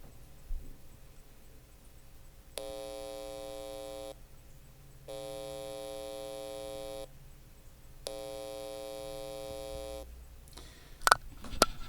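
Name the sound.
buzz of alternating current through speaker wire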